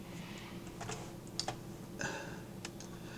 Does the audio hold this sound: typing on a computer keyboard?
yes